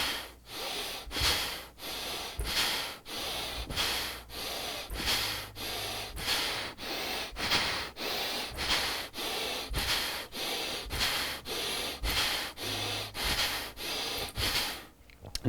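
Forceful rhythmic breathing during a Kundalini yoga lifting exercise, heard as about twenty quick, even, hissing breaths close to the mic, with a low thud now and then as the body drops.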